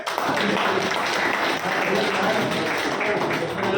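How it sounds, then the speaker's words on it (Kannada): A large audience claps continuously at a steady, dense level, with a murmur of voices blended into the applause. "ಆ ತಾಯಿ ಚಾಮುಂಡೇಶ್ವರಿಗೆ ಸನ್ನಿಧಿಗೆ ನೀವೆಲ್ಲರೂ ಚಪ್ಪಾಳೆ ಮುಖಾಂತರ ಹೇಳಿದ್ರೆ"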